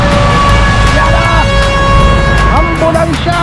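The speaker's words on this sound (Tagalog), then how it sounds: "Ambulansya!" An ambulance siren wails through loud, rushing wind and rain during a typhoon in Batangas, its rising and falling tones partly buried under the steady storm roar.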